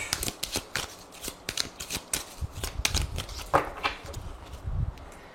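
Lenormand oracle cards are shuffled by hand nearby, a run of crisp riffling bursts and soft slaps in an uneven rhythm.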